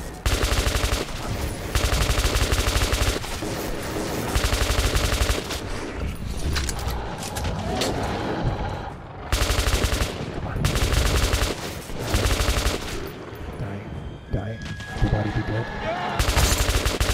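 Weapon fire in Metro 2033 Redux, loud bursts of rapid automatic shots repeating in clusters with short pauses between them, close and dominant, with a voice talking in places.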